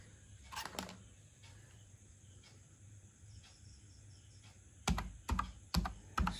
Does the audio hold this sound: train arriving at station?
no